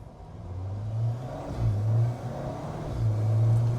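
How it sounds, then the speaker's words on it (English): Alfa Romeo 4C turbocharged sports car driving, with a low engine drone rising in surges and a faint airy induction hiss over it, loud and close from inside the cabin. "Tons of turbo noise, all this lovely induction noise. You get wastegate flutter,"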